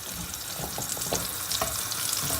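Steady crackling sizzle of potatoes frying in hot oil over medium heat, with small pops and spits scattered throughout at close range.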